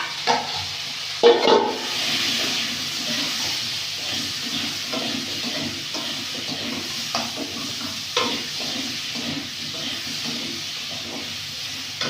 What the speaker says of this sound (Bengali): দিয়ে দেবো হলুদ লবণ দিয়ে ভেজে দেবো